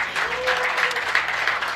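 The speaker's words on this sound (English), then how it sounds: "Please give Michael Russo a round of applause just for being Michael Russo" A comedy audience at the Tin Shed applauds for Michael Russo with a steady wash of clapping, with some crowd voices mixed in.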